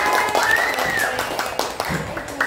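A class of schoolchildren claps their hands together in a classroom, with a burst of fairly close, uneven clapping and raised voices mixed in.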